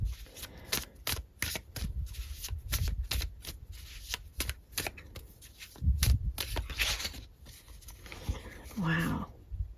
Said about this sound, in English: I'm going to pull more cards though